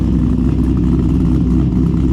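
A Corvette C6 V8 with an aftermarket exhaust idles close by, a deep, loud, steady burbling rumble with a slightly choppy pulse and no voices over it.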